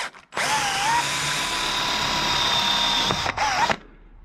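A power drill runs a 3.3 mm bit into metal, cutting a tapping hole for an M4 thread on custom handlebar switchgear for a Triumph T140 chopper. One close, loud, continuous whine lasts about three seconds, then a brief second burst.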